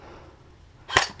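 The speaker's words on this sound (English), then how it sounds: "Hey, bro, shoot that window over there." A single sharp airsoft gun shot cracks out near the end, close and fairly loud, after a stretch of quiet outdoor background during a center-field firefight at Richmond Underground.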